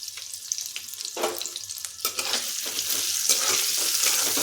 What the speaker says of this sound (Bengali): ওই তেলে সেদ্ধ করে রাখা আলু ভেজে নিচ্ছি